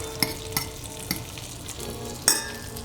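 Fish sizzles in olive oil in a pan, with a steady frying hiss broken by a few sharp clinks and scrapes of a utensil, close and alone without any voices.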